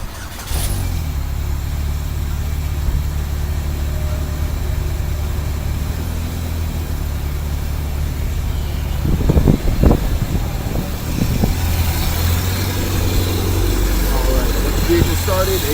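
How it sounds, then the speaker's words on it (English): A vehicle engine starts and idles with the air conditioning running at maximum during an HVAC evacuation and recharge, a steady low hum with fan noise and a brief surge of revving partway through. "Go ahead and start the vehicle and turn the AC on max."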